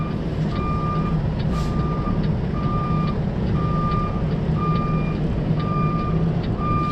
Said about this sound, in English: So now we get to back out onto the street